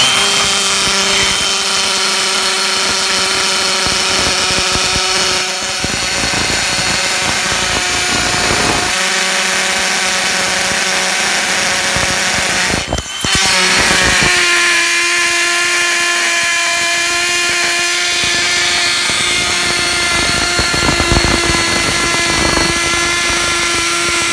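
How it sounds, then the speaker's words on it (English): A power drill whines loudly and steadily, drilling holes into a floor to fix a toilet flange, bearing down in long continuous runs with brief pauses and a sharp burst midway, no talking. "And you got to drill holes."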